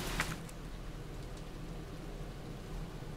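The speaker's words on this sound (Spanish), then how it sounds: "es solo que está lloviendo más fuerte" Heavy rain falls steadily in a village, a soft, even hiss at low level throughout, with a faint drip-like tick near the start.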